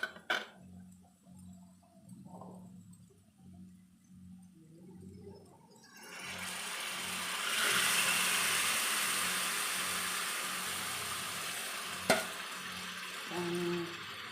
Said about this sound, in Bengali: এবার আমি মাংস দিয়ে দেবো।